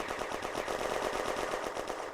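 Sustained machine gun fire in a World War II–era war game set in May 1940, fired from a hill across the way: a dense, continuous rattle of rapid bursts at steady loudness with no speech.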